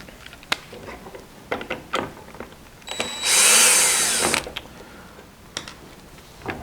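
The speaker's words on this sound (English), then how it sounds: "So I'm going to take off these caps first." Dowel end caps come off a Kromski harp loom with sharp clicks and taps scattered irregularly, then a loud sustained whirring burst of a power screwdriver for about a second, followed by more scattered clicks.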